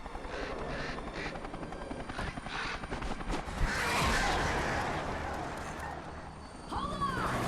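A modified Blackhawk helicopter in the video game Alan Wake Remastered flies nearby, its steady rotor and engine drone rising to a loud wash midway, with faint voices under the noise.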